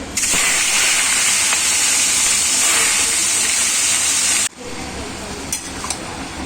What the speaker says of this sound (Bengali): এবার মাছের ঝোলের মাছটা ভাজবো